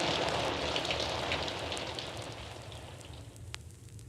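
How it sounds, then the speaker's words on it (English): Steady rain falling, a dense continuous hiss of drops that is loud at first and gradually eases and thins out toward the end, with no voices. "At last the rain was over."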